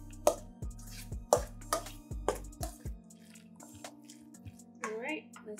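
Chickpea vegan tuna melt filling is mixed in a bowl, with several dull, wet knocks and squishes from the utensil in an uneven rhythm, close by, followed by quieter stirring while music plays underneath.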